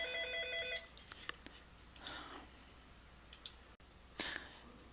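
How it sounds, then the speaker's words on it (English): An office telephone rings with a short electronic burst at the start, followed by scattered clicks and faint rustling in a quiet room; no one speaks. "Sorry for the phone ringing."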